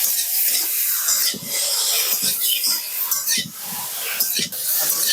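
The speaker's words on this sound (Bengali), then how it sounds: "এবার আমি দিয়ে দেবো ধনে, জিরে আর কাঁচা লঙ্কা বাটা, দিয়ে ভালোভাবে লতির সাথে কষিয়ে নেব" Taro stolons frying in a pan with a paste of coriander, cumin and green chilli, stirred continuously; a steady bright sizzle fills the clip, with soft repeated scraping strokes of the spatula.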